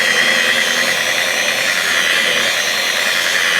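A loud, steady high-pitched whine of a car polisher running continuously, with a dense, even hiss and no pauses.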